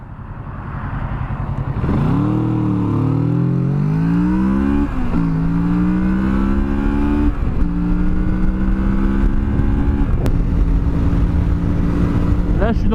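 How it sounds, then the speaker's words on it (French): A 2017 Kawasaki Z650 motorcycle pulls away from a standstill toward 100 km/h. The engine note climbs loud and close, then drops briefly at each of several gear changes before rising again. "Un petit départ arrêté de 0 à 100 km/h."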